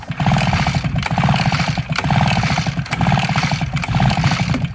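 An Echo PB-8010T backpack leaf blower's small two-stroke engine, recently flooded, roars loud and steady throughout, a close buzzing drone with a pulsing rhythm and no pauses or talk.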